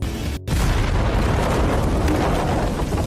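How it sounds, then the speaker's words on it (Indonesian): A dynamite blast inside a mine in a film: after a brief cut to silence, a loud, heavy roar of explosion bursts in and rumbles on without letup, dense and close, until it cuts off. "Untungnya, Ben berhasil melarikan diri dari ledakan di detik-detik terakhir"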